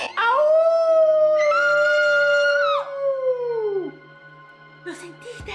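Werewolf howling outside: two long, wavering howls that sag in pitch at the end, loud and close, then a short yelp after a pause.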